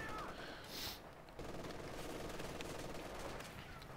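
Machine gun fire from the Company of Heroes 2 strategy game, a steady dense crackle of gunfire running continuously at moderate loudness, with a brief lull near the start before the firing resumes.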